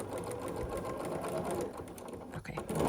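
A sewing machine stitches quilt block pieces together in a steady, close, continuous whir that runs without pause, rising slightly toward the end.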